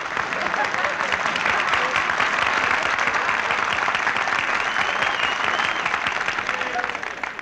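A studio audience applauds on an old-time radio comedy show, with dense, loud clapping that runs steadily through the whole stretch and thins slightly at the end.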